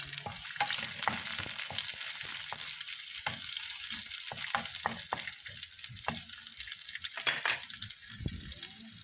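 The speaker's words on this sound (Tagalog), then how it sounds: "Igigisa na po natin ang ating bawang." Garlic sautéing in a pan for chicken with tomatoes: a steady frying hiss broken by irregular clicks and scrapes of stirring, close and moderately loud, no voices.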